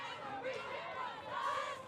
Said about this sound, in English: couple of oohs and ahs from the crowd on that one